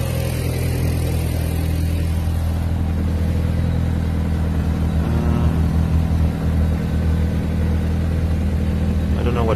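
An Audi S3 8L with the 1.8L BAM engine and a Milltek exhaust revs loudly and close by, a steady rumbling drone that swells and eases through the revs.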